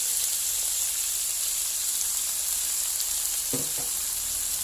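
Asparagus and pork stir-fry in a hot pan with sauce, giving a steady, loud sizzle throughout, broken near the end by a couple of brief scraping stirs.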